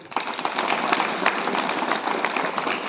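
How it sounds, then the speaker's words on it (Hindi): A group of children applauding together, a dense, steady patter of many small hands clapping throughout, fairly loud and close with no talk over it. "एक बार ताली बजाओ अपने"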